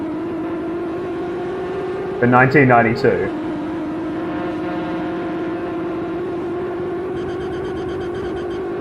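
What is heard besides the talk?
car engines in a 1992 Sega Mega Drive driving game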